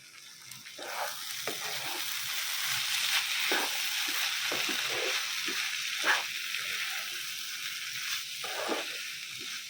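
Vegetables with a spoonful of tandoor sauce fry in a pan over a medium flame for a cheese samosa filling, giving a steady, fairly loud sizzling hiss broken by scattered short scraping bursts from stirring. No one speaks.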